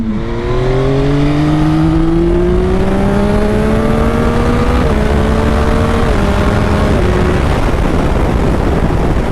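A motorcycle engine revs loud and steady during a beginner wheelie ride, its pitch climbing smoothly, then stepping down and back up through gear shifts, with constant wind roar around it.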